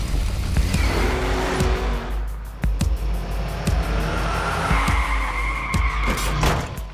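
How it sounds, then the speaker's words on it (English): RC cars drift around a miniature city street set, their tires squealing in long screeches over a steady motor whine, loud and close for the whole stretch. "getting these guys to come drift their RC cars around"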